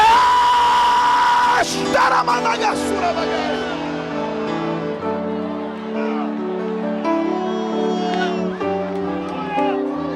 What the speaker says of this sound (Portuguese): E dá um grito de glória.